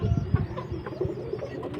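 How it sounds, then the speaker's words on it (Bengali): A Jalali pigeon coos in low, soft, repeated throaty murmurs, close by and fairly quiet, with no talking. "জালালি কবুতর"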